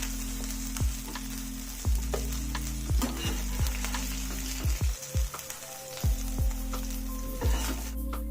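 Pieces of king fish fry in hot oil in a pan, a steady close sizzle with repeated sharp knocks and scrapes as they are turned, with no one speaking.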